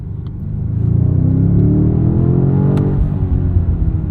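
A 2025 BMW M5 G90 hybrid with an 8-speed gearbox accelerates hard from inside the cabin, a loud, deep engine rumble climbing steadily in pitch, then a smooth shift drops it before it builds again.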